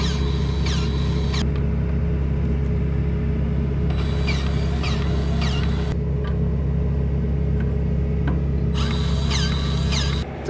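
A hand grease gun works the fittings on a hay baler, its squeaky, clicking pump strokes coming in three separate bursts over a steady, loud low engine rumble that runs throughout.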